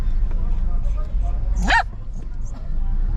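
An excited dog barks and yips indoors in a home in Kato Paphos, Cyprus, giving one short high-pitched whining bark partway through, with people talking and background noise.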